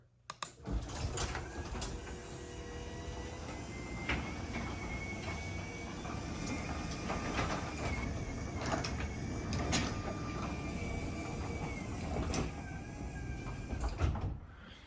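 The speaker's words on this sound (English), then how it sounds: "So I've got to open the garage door here." A garage door being opened in a building where a fire sprinkler drain valve is being replaced; a faint, steady mechanical rumbling and rattling with occasional clanks and squeaks, running for about fifteen seconds.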